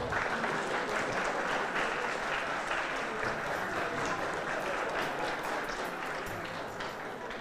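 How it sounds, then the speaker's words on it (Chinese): Sustained applause from a seated audience at a formal diplomacy lecture welcoming former vice president Vincent Siew, steady dense clapping filling the room throughout without a break. "各位贵宾，让我们掌声欢迎萧副总统"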